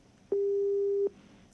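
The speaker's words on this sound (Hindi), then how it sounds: "महाराज जी का फोन शायद डिस्कनेक्ट हो" A single steady telephone busy tone sounds after a call disconnects, one clear electronic beep of under a second that stands over a faint background hiss and no talking.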